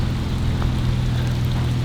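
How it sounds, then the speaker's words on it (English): Pea-sized hail drums on a van in Montana, a dense, continuous patter of small impacts on the roof and body over a steady low rumble, loud and close throughout. "she is deciding to hail on us. Like pea-sized hail."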